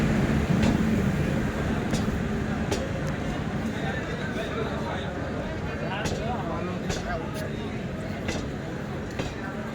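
A Junagadh–Gandhidham Capital Express intercity train rumbles steadily with a broad low roar and faint rhythmic clicks, heard from on board or nearby as it gets under way.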